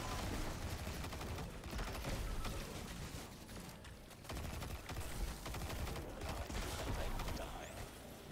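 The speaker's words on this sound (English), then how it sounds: "Get rid of the cannon shooting things." Sustained cannon and weapon fire in the sci-fi shooter Destiny, a dense continuous volley of shots and blasts that runs for several seconds, loud and cluttered throughout.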